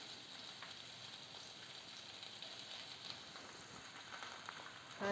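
Cinnamon, cloves, cashews, garlic and sliced onions toasting in a pan for mutter paneer, a soft, steady sizzle with light crackles throughout, fairly quiet and without talk.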